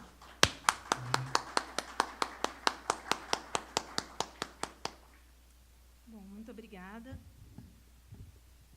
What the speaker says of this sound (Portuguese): Com vocês, então, Mariana Ramos de Moraes, para quem eu peço palmas antecipadas.